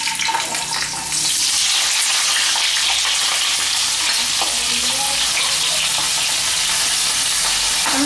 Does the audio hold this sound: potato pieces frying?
yes